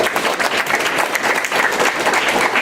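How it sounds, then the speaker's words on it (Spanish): Loud, steady applause from a conference audience at a school emergency-preparedness panel, dense clapping filling the room for a few seconds without pause. "Me encantó ese fuerte aplauso."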